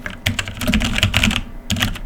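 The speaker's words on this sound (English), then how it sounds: "I'm just touching the keyboard right now to see." Quick clicking keystrokes on a Logitech G413 Carbon mechanical keyboard, close and fairly loud, coming in an uneven burst of rapid taps, a short pause, then a few more clacks.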